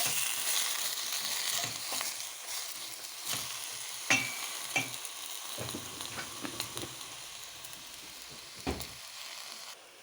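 Food sizzles steadily in a hot pan, with occasional scraping and clinks of a utensil stirring it.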